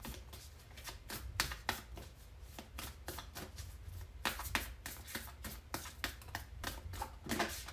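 Moonology Oracle cards being shuffled by hand in a quiet room for a tarot reading, a steady run of crisp riffling flicks and soft slaps repeating close up for several seconds.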